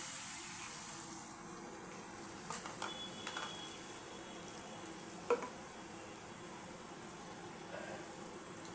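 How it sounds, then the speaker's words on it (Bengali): Onion, ginger and garlic fry with soft, steady sizzling as a spice paste is added for a prawn malai curry, with a few brief clinks of a spoon against the pan. "গুলে নিয়ে এবার আমি মশলাটা এর মধ্যে দিয়ে দেবো।"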